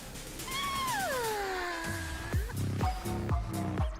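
A cat meows nearby, giving one long drawn-out meow that slides downward and then a few shorter mews, over steady background noise.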